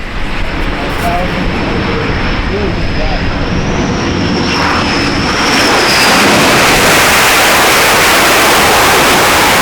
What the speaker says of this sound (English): we have a jet on its way down right now